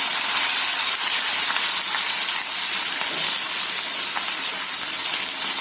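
Onions frying in a pan for a ridged gourd curry, a loud continuous hissing sizzle held steady and close, with faint scraping from stirring.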